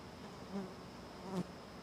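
Flies buzz faintly nearby on a sunflower farm on a rainy day: a soft, continuous drone that swells briefly twice, with no voices.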